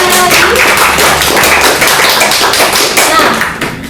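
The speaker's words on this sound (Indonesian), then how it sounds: "Boleh dikasih tepuk tangan lagi?" Applause from a podcast studio audience, a dense steady patter of many hands clapping close by for about four seconds, tapering off slightly at the end.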